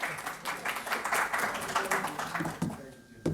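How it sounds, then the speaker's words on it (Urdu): Audience applause at a mushaira poetry evening in Faletti's Hotel, a brief wash of clapping from a crowd that fades out as talk comes in. "آپ سب کی بھرپور تالیوں میں جناب عقیل عباس"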